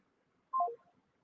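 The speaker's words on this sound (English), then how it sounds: "Your phone went off." A phone goes off during a call-in talk show, giving a short burst of two or three descending electronic tones, clean and isolated against silence.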